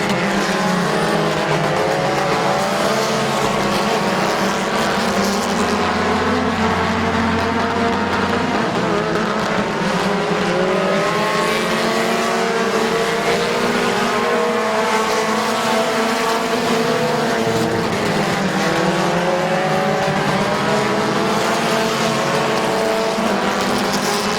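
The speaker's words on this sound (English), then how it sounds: "Busby trying to get to the outside of Clark, and he'll take over the second spot on lap number 8." Race cars circling Midvale Speedway during a race, a loud continuous roar of engines with rising and falling pitch as the pack passes, steady and close throughout.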